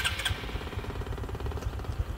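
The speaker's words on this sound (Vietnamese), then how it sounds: "Bây giờ mình sẽ nổ máy cho anh em nghe này" A rebuilt Honda Future 125 motorcycle engine starts with a brief starter whirr, then settles into a close, even idle of rapid pulsing beats.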